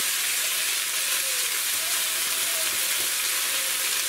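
Tomatoes frying in oil for Indian dal tadka, a steady close sizzle and hiss with faint stirring, continuous and fairly loud throughout with no voices.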